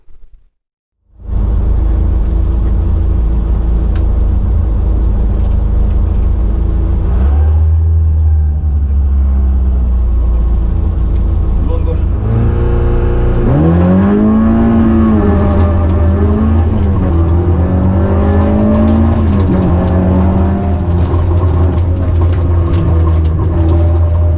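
A rally car engine recorded onboard during a rally roars loud and close throughout, with repeated revving surges that climb and drop as the driver works through the gears. No one speaks.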